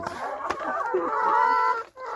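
Farm chickens cluck and call in a South African coop, giving a close, loud, warbling fowl vocalization with brief rustling around it.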